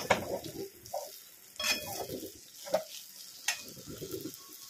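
Crushed peanut powder being stirred into eggplant frying in oil, heard as a soft, close sizzle with repeated scraping spatula strokes and occasional clinks against the pan.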